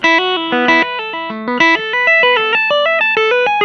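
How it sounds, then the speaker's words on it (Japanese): An electric guitar played through a distortion pedal picks out a melodic line from a song, with clipped, sustained notes following one another in a loud, steady run and no voice over it. "実は歪みペダルも中でクリッピングっていうんだけれども、音量が大きいところをこうグッと抑えるような働きがあるんですね"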